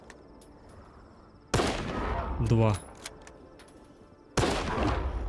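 Loud rifle shots from the video game S.T.A.L.K.E.R. 2 crack in sharp bursts, close and punchy, with someone speaking briefly in Ukrainian between them.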